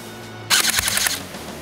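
An A&K SPR-L airsoft electric rifle fires one quick full-auto burst of about ten rapid, sharp mechanical cracks, close and loud, after a short quiet moment, with faint room noise afterward.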